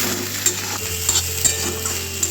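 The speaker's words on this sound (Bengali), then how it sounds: "আর এদিকে এখন ডিমটা ভাজছি, ডিমটা এবার ভেজে নেব।" An egg fries in a pan with a steady, close sizzling hiss, punctuated by a few sharp little pops and clicks.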